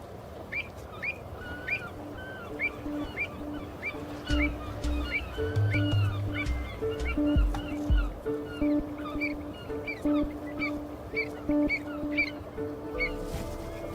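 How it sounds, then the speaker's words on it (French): Water birds calling in a coastal wetland between land and sea during early-summer nesting: repeated short chirps and squawks at moderate distance over steady background noise and a low engine-like hum. "Ces zones humides entre terre et mer sont depuis toujours le paradis des oiseaux aquatiques"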